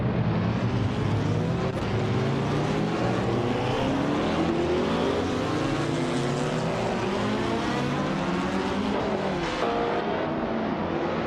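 Racing cars scream past on a track in a racing video game, including a 1973 Arc F16, a loud sustained engine whine with layered revving from several close cars.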